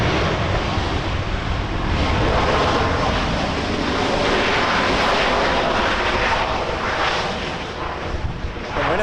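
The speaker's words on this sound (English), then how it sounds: "From Winnipeg, Air Canada 293, 737 MAX 8." Air Canada Boeing 737 MAX 8 airliner at Vancouver airport, a loud continuous jet engine roar that stays close and steady throughout, no voices over it.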